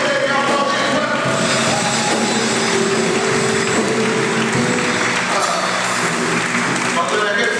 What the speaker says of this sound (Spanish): Alguien tiene que aplaudir fuerte.